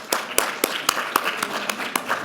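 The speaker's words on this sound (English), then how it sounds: "let's just give them applause for being part of that great partnership" Sparse, evenly spaced hand claps from a small audience at a national Landcare conference, about nine sharp claps in two seconds, moderately near with no voices.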